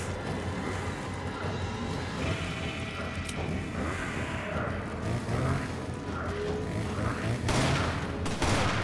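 Dense, continuous gunfire from Resident Evil 5 gameplay, a busy mix of shots, crashes and mechanical clatter with steady loudness throughout and a few sharper bursts near the end.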